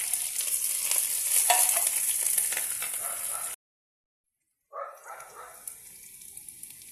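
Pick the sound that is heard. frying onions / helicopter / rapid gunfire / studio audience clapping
frying onions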